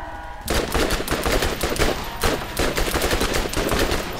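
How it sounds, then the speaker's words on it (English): Rapid SMG fire in the Borderlands video game, dense continuous bursts of automatic shots lasting several seconds after a brief quiet start, loud and close with no talk over it. "this SMG is really only useful at extreme close range"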